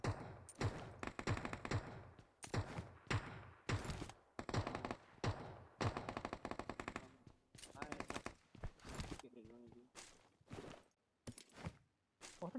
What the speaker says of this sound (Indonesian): aku tembak aku tembak.